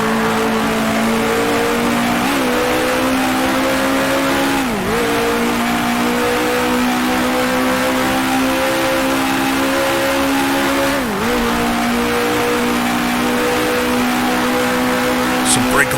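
A 1966 Formula 1 car in Grand Prix Legends roars loudly and steadily, its engine pitch dipping sharply at two downshifts before climbing again, with faint tire noise underneath.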